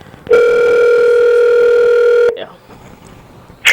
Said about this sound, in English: So let's try to call Miss Speight now